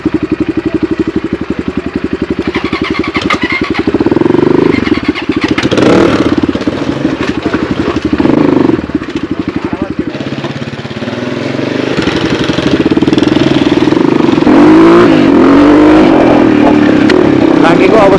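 A new Motorhead dirt bike engine runs loud and close throughout an off-road ride, its revving rising and falling with steady rough mechanical clatter, while a person talks over it at times.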